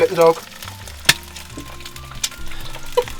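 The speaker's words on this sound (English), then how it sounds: "There's so much oil, it's just spitting everywhere." Crackling, popping sizzle of an egg frying in plenty of hot oil, with sharp spits and a few clinks of a utensil against the pan.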